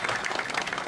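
A brief burst of crowd applause at a village meeting welcoming electricity officials, many hands clapping briskly and fairly loudly with no voices over it.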